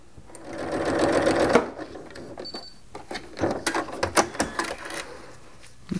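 A sewing machine stitches batik fabric pieces onto a quilt backing, a close whirring burst in the first seconds followed by clicks, taps and handling noises of the fabric.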